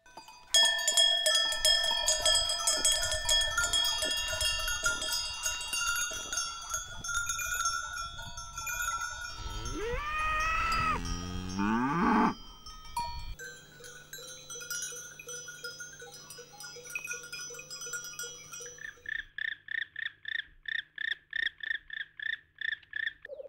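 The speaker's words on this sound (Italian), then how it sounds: "La melodia prodotta varia anche secondo la forma e le dimensioni del campanaccio" Cowbells clank and ring continuously on grazing livestock in inland Sardinia, a dense metallic jangle of several bells, with a brief animal call in the middle and a rapid regular chiming toward the end.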